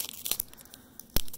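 Scissors cut open 2020 Topps Series 1 baseball card packs, giving a few short, crisp crinkling snips of foil wrapper close by, ending in one sharper rip.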